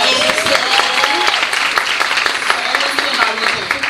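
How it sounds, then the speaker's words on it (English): Audience at a Women's History Month symposium giving a round of applause for a chief, dense sustained clapping from a room full of people, with voices and cheers mixed in. "Give a round of applause for Chief Anderson"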